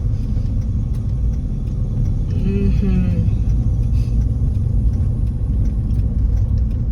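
Car traffic rumbles steadily on a busy market street in the Philippines, a constant loud low drone of engines with a brief higher whine in the middle and a person murmuring.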